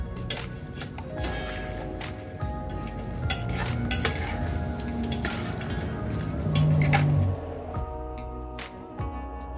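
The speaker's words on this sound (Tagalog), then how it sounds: "At halo-haloin lang po natin para magpantay po ng kanyang lasa." A spoon scrapes and clatters around a cooking pot while chicken caldereta with soy sauce is stirred, metal knocks repeating against a soft simmering sizzle.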